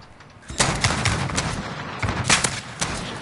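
Rapid gunfire in a shooter game, a string of sharp loud shots in irregular bursts, some in quick clusters, close and dense with little pause between them.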